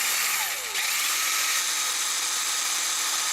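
A power drill steps out and enlarges the hole in a washer clamped in a vise, giving a steady, loud, high-pitched whine that runs unbroken through the whole stretch after a brief catch near the start.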